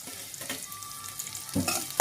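Onion frying in a pan for beetroot fry, a close sizzle with scraping stirring bursts and clatter near the end, no voices.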